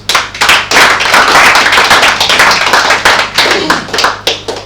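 A small group claps for themselves at the start of a hosted show, loud and close, with individual sharp hand strikes audible in a rapid, somewhat uneven patter that thins and becomes more separated toward the end.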